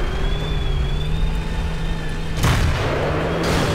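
An E-75 heavy tank fires its cannon in the game World of Tanks, a loud blast cutting through a steady engine drone and rumbling on in a long tail.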